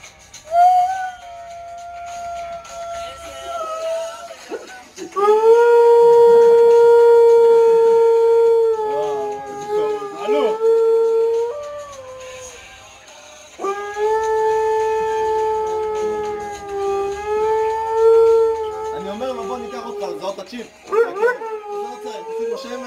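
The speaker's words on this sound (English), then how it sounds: "a lost dog with its owner, thanks to the pup's amazing talent for singing along to its favorite TV theme song" A Siberian husky howls along with a TV theme song, with long sustained wavering howls that rise and fall in pitch and are loud and close. A short break splits the howling into two long stretches.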